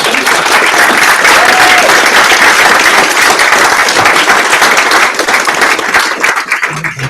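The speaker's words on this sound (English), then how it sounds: "Let's give a round of applause." A crowd at a hackathon's final presentations breaks into loud, sustained applause that fills the room and tapers off near the end, with a few voices faintly underneath.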